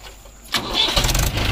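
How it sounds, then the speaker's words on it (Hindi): A Mahindra 575 DI tractor engine cranks and fires into a loud, rough idle after a quiet start, recorded close outdoors with no speech. "बहुत ही सॉलिड आवाज है इंजन की"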